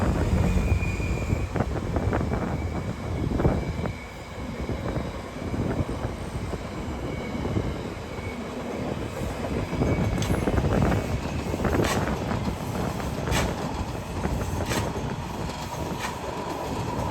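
A train rumbles past near Long Bridge in Washington DC, a loud, continuous roar of wheels on rails with faint clacks, and wind buffeting the microphone throughout.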